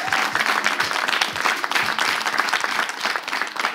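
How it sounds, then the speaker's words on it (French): Dense, steady applause from a studio audience at a live Togolese television show finale, loud and continuous throughout with no break. "Ça s'applaudit,"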